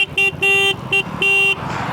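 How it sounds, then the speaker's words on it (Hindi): A motorcycle horn on a 2026 KTM Duke 250 or Hero Xtreme 250R honks in a series of short and longer beeps, loud and close, over a low engine rumble. "हॉर्न दूंगा, ठीक है भाई, हॉर्न दे रहे हैं।"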